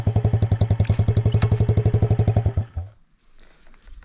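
A Yamaha 110 motorcycle idles with a loud, rapid, even engine thump nearby, then the beat cuts out abruptly as the bike is lifted, leaving faint rustling and a low thud.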